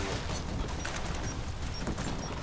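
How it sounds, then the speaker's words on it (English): Continuous loud battle noise in Rise of the Tomb Raider, a grenade blast within dense rapid gunfire, steady and close for the whole stretch without a distinct single boom. "Oh, you threw a grenade at me"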